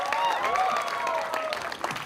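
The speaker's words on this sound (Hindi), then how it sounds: "कम ऑन गाइस, जोरदार ताली होनी चाहिए." An audience at a teaser launch event applauds loudly in a short, dense burst of clapping, with whistles and cheers mixed in.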